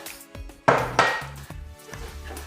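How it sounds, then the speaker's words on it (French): Three eggs are tipped into a larger mixing bowl: sharp clinks and knocks of shell and utensil against the bowl, a few distinct close taps over a couple of seconds in a quiet kitchen. "on va justement venir prendre les 3 œufs, hop, tout mettre dans un saladier un peu plus grand"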